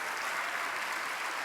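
A church congregation applauds, a dense, even burst of clapping at moderate volume that holds steady for a moment.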